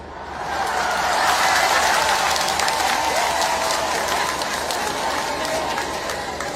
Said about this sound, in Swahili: vigelegele hivi vinafanya walioko kazini wajue na sisi siku moja tunataka vigelegele